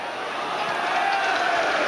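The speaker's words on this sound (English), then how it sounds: "Ironic cheer from the United fans as Dudek gathered that one" Manchester United supporters in a packed stadium raise an ironic cheer during a Liverpool versus Manchester United match, a steady broad crowd roar that holds for about two seconds without clear individual voices.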